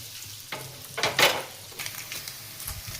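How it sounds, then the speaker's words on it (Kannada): Paneer pieces frying in a pan for a dhaba-style Hyderabad paneer masala, a quiet sizzle broken by a few spatula scrapes and turns, close by, no voices. "ನೀಟಾಗಿ ಫ್ರೈ ಮಾಡ್ಕೊಳ್ಳೋಣ. ನೋಡಿ ಈ ಥರ ಎಲ್ಲ ನೀಟಾಗಿ ಫ್ರೈ ಮಾಡ್ಕೊಳ್ಳಿ."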